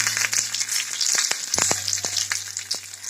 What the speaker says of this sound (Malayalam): കടുക് പൊട്ടുമ്പോൾ കറിവേപ്പില ഇടാം.